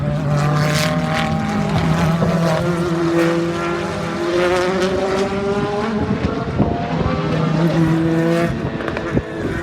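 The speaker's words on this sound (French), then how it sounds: "on va juste gagner un petit passage encore de ces deux voitures" Race cars at the 2017 24 Hours of Le Mans scream past one after another, their engine notes rising and falling as they approach and pull away, loud and continuous throughout.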